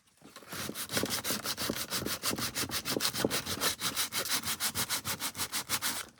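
Regular sandpaper scrubs back and forth along the page edges of a junk journal signature, making close, steady rasping strokes that speed up into a fast, even rhythm, with no talking.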